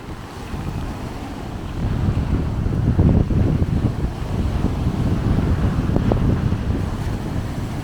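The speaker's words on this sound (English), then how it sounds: "waves are rolling in today" Strong wind rumbles against the microphone while waves wash and surge at a blustery cove shore, building louder partway through and holding steady.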